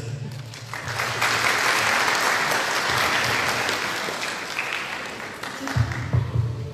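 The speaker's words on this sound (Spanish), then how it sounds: "pidiendo un voto de aplauso para ustedes" An audience applauds at a governance and public policy course in Andahuaylas, a dense burst of clapping that swells, holds and then fades as voices return at the end.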